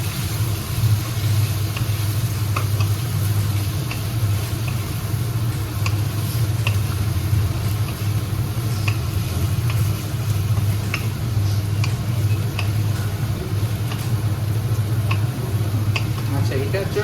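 Mutton frying in a pan for bhuna, giving a steady, close sizzle with scattered clicks and scrapes from stirring over a low, constant hum.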